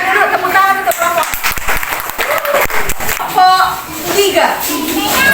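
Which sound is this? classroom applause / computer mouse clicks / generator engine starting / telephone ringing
classroom applause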